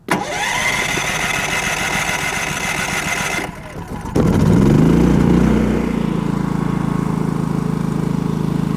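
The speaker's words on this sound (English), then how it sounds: "We allow the generator to warm up." A Firman generator running on propane rumbles for a few seconds, briefly drops out, then fires up and settles into a loud, steady mechanical drone up close.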